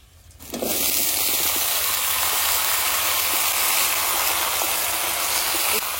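Taro stolons tipped into hot oil with frying onion, garlic and green chillies, setting off a sudden loud hiss and sizzle that stays strong and steady until near the end.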